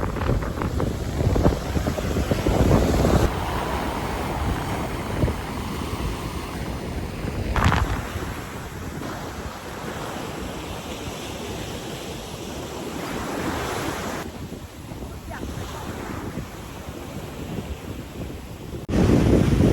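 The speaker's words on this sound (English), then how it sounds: "Back riding along the beach." Waves and wind on a beach in St. Maarten, with steady surf roar and heavy wind buffeting the microphone throughout, rising in gusts, and no voices.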